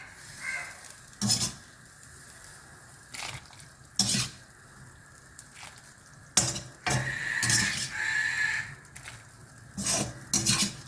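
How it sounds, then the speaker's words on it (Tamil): Okra sizzles in a pan while a utensil repeatedly scrapes and clinks against the metal, in short bursts with quieter gaps between strokes. "நல்லா வதக்கிடுங்க வெண்டைக்காயை"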